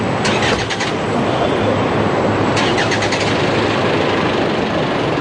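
A car engine turns over and runs loud and close, a steady broadband roar with brief starter-like rattles near the start and again midway, as CJ pulls away in his car; no one speaks.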